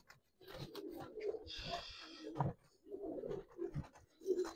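Giribaz and coloured pigeons cooing close by in short repeated throaty phrases, with scratching and shuffling sounds between calls, fairly quiet overall.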